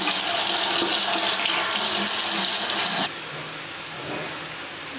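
Water runs steadily from a tap for about three seconds to wet dry hair pieces, then cuts off abruptly, leaving quieter handling and dripping noises.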